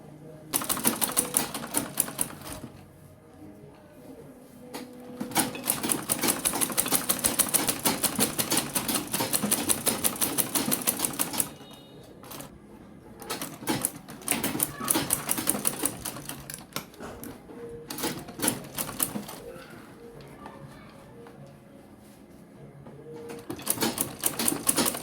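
A sewing machine stitches round a fabric lunch bag in rapid bursts of clattering needle strokes, with pauses between runs and a person talking over parts of it.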